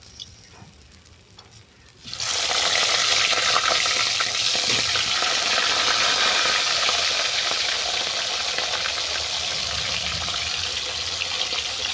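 Cabbage dropped into hot oil left from frying fish: after two quiet seconds a loud sizzle bursts in and stays steady and close for the rest of the stretch.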